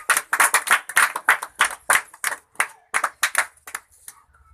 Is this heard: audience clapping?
yes